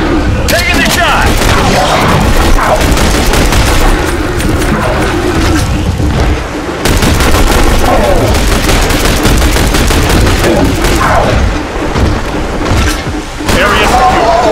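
Loud, continuous gunfire and heavy booms from The Bureau: XCOM Declassified, with rapid automatic bursts layered over explosions and shouted voices throughout.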